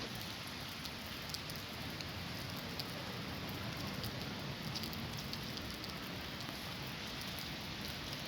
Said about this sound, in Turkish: Yağmurlu bir gün.